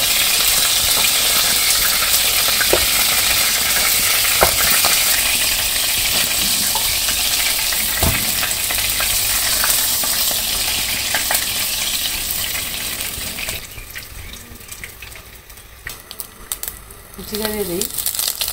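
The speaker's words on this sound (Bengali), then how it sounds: "আমার মাছ ভাজা হয়ে গেছে আর নামিয়ে নিই।" Fish frying in a pan in a simple village kitchen, a loud continuous sizzle with scraping and stirring clatter, easing near the end where a voice speaks briefly.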